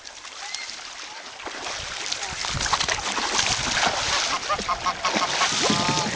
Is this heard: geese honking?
yes